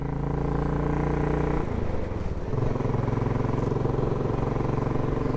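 A 2012 Royal Enfield Classic 500 single-cylinder motorcycle under way, its steady thumping engine note close and loud, dipping briefly as the rider shifts gear, then pulling again.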